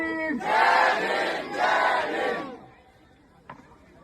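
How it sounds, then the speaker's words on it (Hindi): Crowd at a Bahujan poetry gathering in Machipur village near Khurja, raising two loud cheering chant bursts like a rallying cry, then falling quiet with a faint thump. "जोरदार तालियों के साथ जय भीम"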